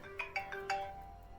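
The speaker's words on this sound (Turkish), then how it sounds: "Ah telefon çalıyor bir dakika dur dur dur" A mobile phone ringtone plays a short bright electronic melody of four quick rising notes, fairly faint and alone, for an incoming call from an unknown number.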